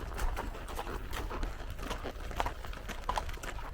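Horse hooves clop on the ground during a horseback ride entering a winery gate near Sedona, a faint, uneven patter of steps under outdoor ambience with no talking.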